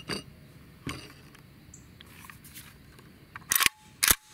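A Century VZ2008 pistol's trigger gives two sharp, close metallic clicks near the end of the clip. Before them come a few faint handling taps and rustles, with no talk.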